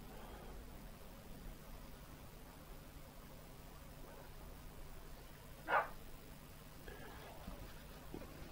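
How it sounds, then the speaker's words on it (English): A single short dog bark rings out in the distance over a steady hiss of background noise, with a fainter second yelp shortly after. "She's barking tonight again."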